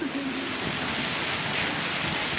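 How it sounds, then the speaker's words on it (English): Heavy rain from Hurricane Isaias pours down steadily outdoors, a dense, continuous hiss that stays loud and even throughout, with no voices. "I just wanted to show you what the rain looks like out there."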